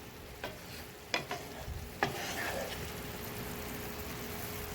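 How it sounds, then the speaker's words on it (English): Mushrooms being stirred into a Merlot sauce in a pan, with a soft steady sizzle and a few sharp scraping knocks from the utensil against the pan. "Mushrooms are in the pan. We're going to stir those around into the sauce."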